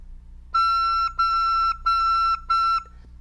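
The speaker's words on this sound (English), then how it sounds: "Now I'm going to do it with the half hole." Recorder sounding a sustained high E with the thumb hole half covered, played as four steady separate notes of about half a second each, clear and fairly loud with no talking.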